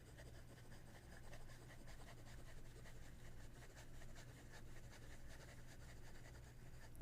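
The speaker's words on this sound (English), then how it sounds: "Fast writing." A Hongdian N9 fountain pen moves quickly across paper, a fine continuous scratchy hiss with rapid stroke-by-stroke texture, close and quiet, no talking.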